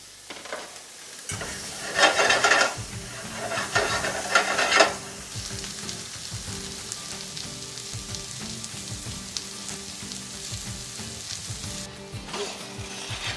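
Carrots hit a hot frying pan and sizzle loudly, with stirring scrapes over the first few seconds before the frying settles into a steady, quieter crackle.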